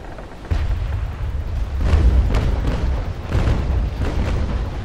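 Ship cannons firing in the naval battle game Naval Action, heavy low booms rolling one after another across several seconds, loud and close with a sustained rumble between shots.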